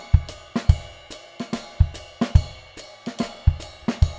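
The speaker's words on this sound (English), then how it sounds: "let's go from the jazz ride to the Bembe ride," A drum kit, played close, moves from a jazz ride pattern into a Bembe ride, with steady cymbal strokes over punchy low hits and an even, repeating rhythm.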